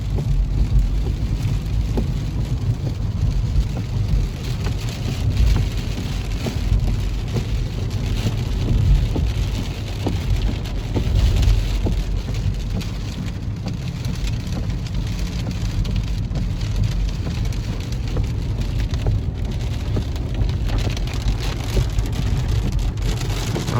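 Heavy rain pours steadily and loudly onto surfaces for over twenty seconds, a dense, unbroken hiss with a low rumble beneath it.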